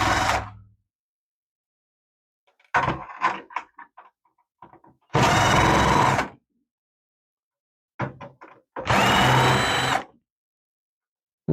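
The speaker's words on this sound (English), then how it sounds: "let's get the screws out of the motherboard and get the motherboard out of the case" Power screwdriver backing screws out of a motherboard inside an MSI computer housed in a KIP 3000 large-format printer, heard as two loud, steady whirring bursts of about a second each, separated by quieter clicks and handling taps.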